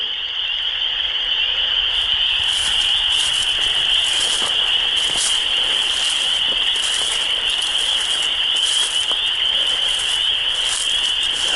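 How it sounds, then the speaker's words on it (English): Frogs croak at night around a stealth campsite, forming a dense continuous chorus: a steady high trill layered with rhythmic pulsed calls, with no talk. "it seems those frogs get louder and louder and louder"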